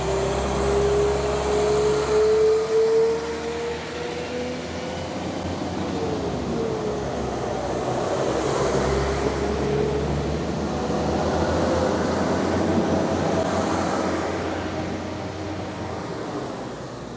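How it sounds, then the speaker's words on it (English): Trains passing on the railway line near Todmorden, a broad rumbling roar that swells and fades over several seconds with faint high whines, heard at a moderate distance without talk. "2 trains have come through in about 10 minutes"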